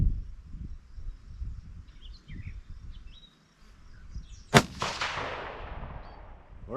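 A single sharp rifle shot from a Ruger American Predator Gen 2 in 6.5 Grendel cracks loudly at an outdoor range, followed by a long fading echo after a quiet stretch.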